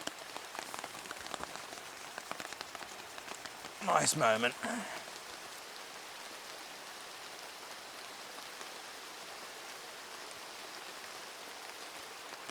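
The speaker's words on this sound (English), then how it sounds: "It's raining outside and the rain can't touch you." Rain falling steadily in a tropical rainforest around a jungle camp, a constant close hiss of drops on leaves and surfaces, with someone speaking briefly partway through.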